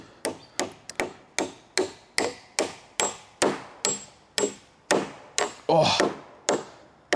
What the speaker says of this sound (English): it's been a while since I swung a hammer